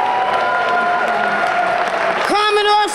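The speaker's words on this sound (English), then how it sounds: "Give her a hand clap." Audience applause at a women's awards ceremony, with broad clapping under a voice and tonal music throughout; the music grows louder and brighter near the end.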